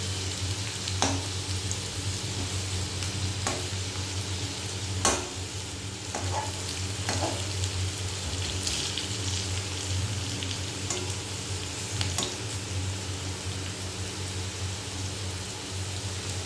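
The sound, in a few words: frying and stirring food in a pan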